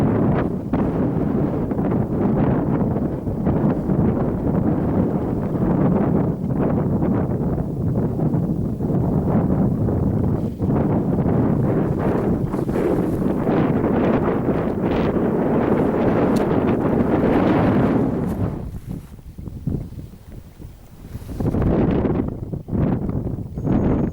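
Strong, steady wind gusting across an exposed hill ridge walk on Meall Mor near Crieff, roaring and buffeting close to the microphone with only a brief easing near the end.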